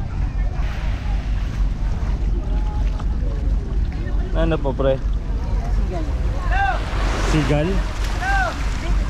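A boat engine drones steadily under gusty wind noise while people talk and call out over it, out at sea off Calaguas Island, Camarines Norte.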